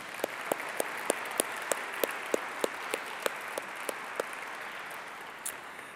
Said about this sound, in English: Let's have one more round of applause for all of our winners tonight.